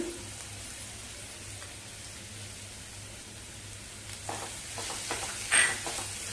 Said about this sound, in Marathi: चांगलं परतवून घ्यायचं.